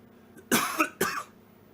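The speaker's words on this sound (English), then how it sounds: "Sometimes I want to cough a little bit just because it helps clear that area in my esophagus" A man gives two short, close throat-clearing coughs in quick succession, loud and dry, with quiet room tone before and after.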